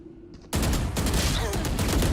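Gunfire in the tactical shooter Valorant, a player shooting through a wall: after a brief quiet moment, a sudden dense burst of rapid shots that continues as loud, sustained automatic fire.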